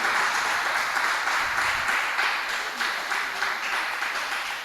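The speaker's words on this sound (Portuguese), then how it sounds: "As palmas engrandecem nosso Senhor Jesus." A church congregation applauds steadily and loudly throughout, a dense wash of clapping from a large group.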